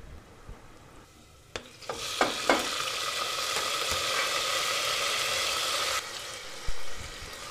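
Tomatoes and green chillies hit hot oil with cumin seeds, bursting into a loud, steady sizzle after a few sharp clinks, then dropping slightly near the end.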